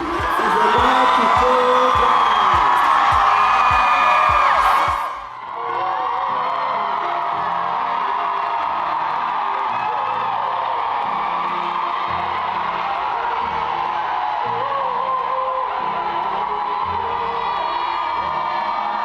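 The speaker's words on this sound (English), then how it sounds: "The crowd was cheering" A loud crowd whoops and cheers at a live performance, dense and sustained throughout, with a brief dip in the din around the five-second mark before the roar resumes just as strongly.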